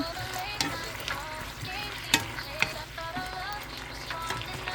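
Plenty of onions frying in a pan as they are stirred, a steady soft sizzle with a few sharp utensil clinks and scrapes, close by with faint talk underneath.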